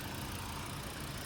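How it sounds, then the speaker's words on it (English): A 2007 Lincoln Town Car Signature Limited engine idles in a steady, even rumble, heard close with no talk over it. "There you can see the engine running."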